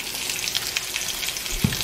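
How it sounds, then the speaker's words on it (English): Vegetables for chicken fajitas stir-frying in a hot pan, a steady close sizzle and crackle with a soft scrape or stir near the end, no voices. "So just stir fry them until they're ready"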